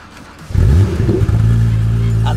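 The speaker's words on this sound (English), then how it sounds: "that's the noise of the Porsche flat six roaring into life" Porsche flat-six engine cranking and firing up in freezing cold, a sudden loud roar that settles into a deep steady idle rumble, close by.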